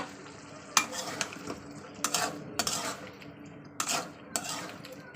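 Thinly cut potatoes sauté in a pan, with a soft fry under several loud scraping bursts of a spatula against the metal, irregularly spaced and close.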